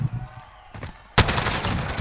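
Bursts of automatic gunfire in a Call of Duty Warzone match, with a quieter volley followed by a loud, sustained barrage of rapid shots.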